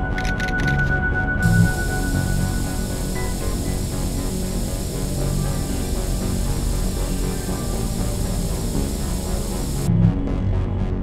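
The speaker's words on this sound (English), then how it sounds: "Good thing I brought some extra spray." Spray paint can hissing steadily as graffiti is sprayed in The Warriors video game, a loud continuous aerosol hiss lasting several seconds with a short rattle at the start and end.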